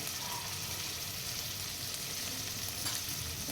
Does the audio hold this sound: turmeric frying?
yes